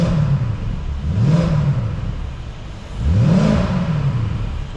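A Mercedes SLK55 R172 with a cold 5.5-litre V8 blips twice, each rev climbing and falling back to a steady idle rumble, close and loud with no talking.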